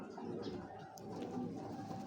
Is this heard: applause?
no